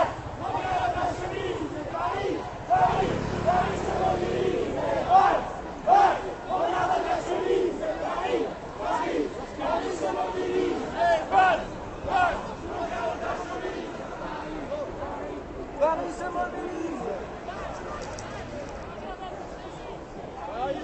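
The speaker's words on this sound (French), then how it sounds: "il y a quand même une grande foule" Large street demonstration crowd near République in Paris's 11th arrondissement, a dense, steady roar of many voices with chanting and shouts rising in bursts throughout, voices prominent over the continuous babble.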